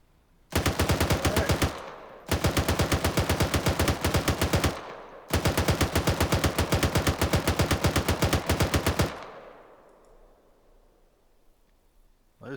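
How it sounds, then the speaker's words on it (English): Machine gun fire in the ARMA 3 video game, three long loud rapid bursts separated by short pauses, the last one trailing off into a fading echo. "Enemy fire!"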